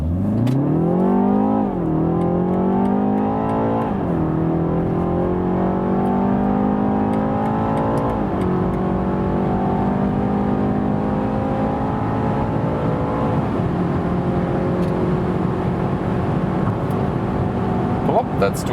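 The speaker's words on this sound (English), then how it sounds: "We're starting at 30 kilometers an hour and accelerated." A 2020 BMW 330i G20 sedan accelerates from 30 km/h, heard from inside the cabin. The engine note climbs steadily through several gears, with a short dip at each upshift, and stays continuous and fairly loud throughout.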